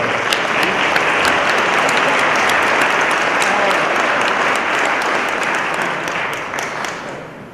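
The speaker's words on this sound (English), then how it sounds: "Could we have a round of applause for those folks because they do work hard." A town meeting audience claps loudly for the clerk and tellers, a dense, sustained round of applause from a large hall crowd that fades out toward the end.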